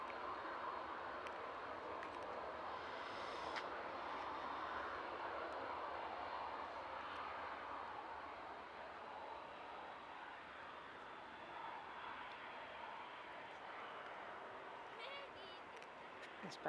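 A Lufthansa airplane taxis at Manchester Airport, its engines producing a faint, distant, steady whine and rumble that holds throughout and eases slightly toward the end.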